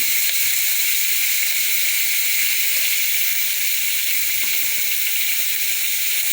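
Eggs frying in a pan make a loud, dense, continuous hissing sizzle that holds steady from start to finish, with no voices.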